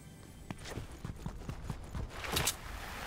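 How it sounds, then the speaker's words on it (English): Footsteps in the shooter game Battlefield 2042 thud in an irregular run of quick steps, moderately close and of middling loudness, with no talking over them. "I hear footsteps for sure."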